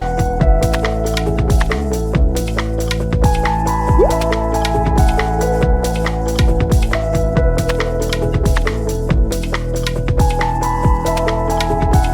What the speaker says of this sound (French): Je vais aller mettre de l'eau